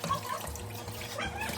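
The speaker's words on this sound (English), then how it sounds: "I'm gonna have to wash the rice pot." Tap water runs into a kitchen sink while a rice pot is washed, a soft steady splashing stream with faint clinks, fairly quiet and continuous.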